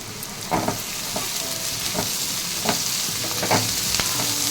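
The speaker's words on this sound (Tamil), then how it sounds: "வெங்காயம் நல்லா வதங்கிடுச்சு" Onions sauté in a pan with a continuous sizzle and frying hiss, broken by scattered scraping stirs of a spoon, close and steady throughout with no voices.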